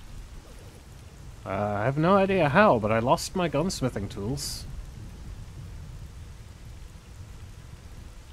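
Steady rain hisses in the S.T.A.L.K.E.R. GAMMA game world, a soft constant wash in the background while someone talks over it.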